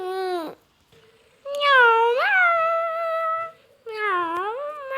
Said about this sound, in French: Il est où, Kiki? Il est au fond du jardin. Je vais aller le chercher. Miaou